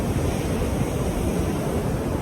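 Sea waves wash onto Mypadu beach on the Andhra coast, a constant roaring rush of surf mixed with strong wind buffeting the microphone, loud and unbroken with no talking.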